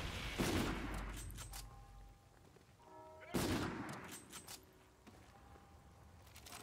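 Video game gunfire aimed at the player: two sharp, loud bursts of rapid shots a few seconds apart, each decaying into a faint ringing tail over low background sound.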